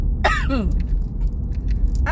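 A person with allergies coughs sharply twice in quick succession, close and loud, then after a pause a third cough begins at the end, over a steady low rumble.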